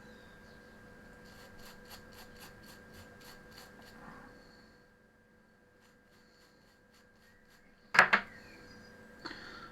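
Small metal switch contacts being rubbed clean on a desk, a soft, steady scratchy rasp with a quick repeated rhythm for the first few seconds, close and quiet, followed by a brief louder knock near the end.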